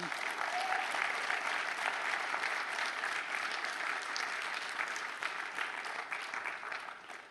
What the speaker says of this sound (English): Max, give him a nice round of applause.